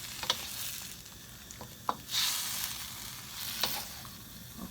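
Broccoli sizzles and fries in a pan while being stirred, a soft continuous crackle broken by a few scraping utensil strokes, fairly quiet and close with no talk.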